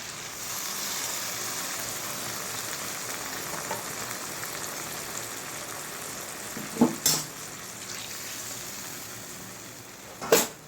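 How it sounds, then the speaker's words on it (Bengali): Puti fish cooking with beans and potatoes in a pan as water is added, a soft steady sizzle and bubbling hiss with a few sharp clatters near the end, with no talk. "মাছটাকে দিয়ে পরিমাণ মতো আমি জল দিয়ে দিচ্ছি"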